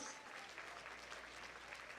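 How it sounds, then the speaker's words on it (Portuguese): Church congregation applauding during a sermon, a steady dense wash of clapping at moderate distance, fairly quiet and continuous with no voices. "você pode aplaudir o Senhor?"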